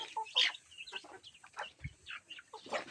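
Native chickens clucking close by while feeding, a busy flock giving short overlapping clucks and chirps in an uneven rhythm at moderate loudness.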